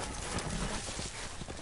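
Horse hooves clip-clop at a steady walking pace, fairly close, over a dense wash of background noise with no talking.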